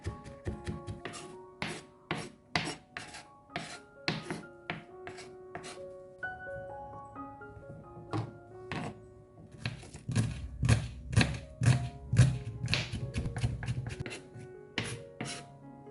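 A knife finely chops garlic and shallots on a board with sharp, close taps. The strokes come in irregular bursts, then speed up into a fast, heavier run of chopping. No voices are heard.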